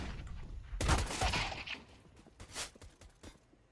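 Glock pistol shots in the CS:GO video game, a quick burst of sharp cracks followed by a few scattered, quieter shots amid faint game noise.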